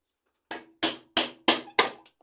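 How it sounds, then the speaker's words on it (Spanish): A small hammer striking a part of a 0.8 centrifugal pump being taken apart: five sharp, close metallic taps in a quick, even rhythm, each with a short ringing decay, no speech. "Martillito."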